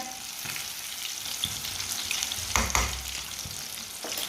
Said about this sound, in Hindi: देखिए मच्छी हमारी फ्राई हो चुकी है।